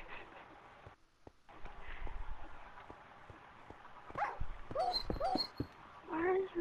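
A dog in the Minecraft video game whimpers and yips in several short, high, squeaky cries, clustered in the second half over low game background noise.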